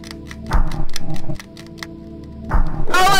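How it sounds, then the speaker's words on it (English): Rapid mechanical clicking from the ceiling in a horror video game, loud and close, coming in dense bursts separated by brief pauses, with a rising whine near the end. "The clicking is getting louder now."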